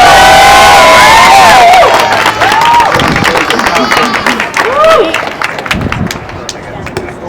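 A rally crowd at a Black Lives Matter justice event in Albuquerque bursts into loud cheering, whooping and sustained applause, with voices shouting over the clapping throughout.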